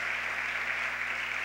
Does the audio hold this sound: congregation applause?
yes